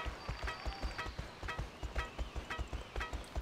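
Horse hooves clip-clop in the video game My Horse & Me 2, a quick, even rhythm of crisp hoofbeats repeating steadily, close and clear.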